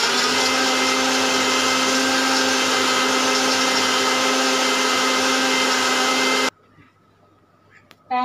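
A kitchen blender whirs steadily at high speed, blending banana lassi in its jar with a loud, even motor drone before cutting off abruptly, leaving a brief quiet tail.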